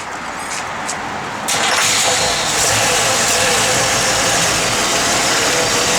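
A 1964 Chevrolet Impala SS engine fires up after a brief crank and settles into a loud, steady idle close by.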